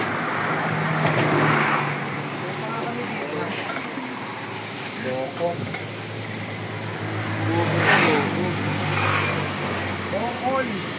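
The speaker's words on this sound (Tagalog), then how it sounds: "Ayan, traffic yan." Road traffic passes with engines rumbling and swelling as vehicles go by, a steady moderate wash of noise with a few louder surges, while people talk nearby.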